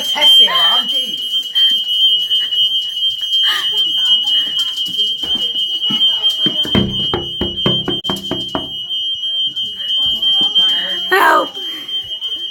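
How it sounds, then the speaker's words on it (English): A smoke alarm shrieks with a steady, piercing high tone through the whole stretch, loud and close, while people talk and shout over it. "I don't want to test the alarm, jeez."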